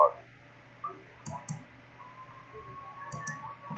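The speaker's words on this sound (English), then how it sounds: "Move your mouse over to the site info tab and click the left mouse button." Left mouse button clicks sound sharp and close in short pairs amid quiet, with faint incidental ticks from the medical training game Zero Hour: America's Medic.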